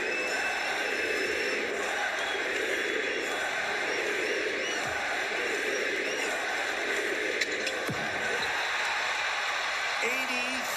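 Basketball arena crowd reacting, a sustained roar of many voices with cheering swelling and fading, while a broadcast commentator talks over it throughout.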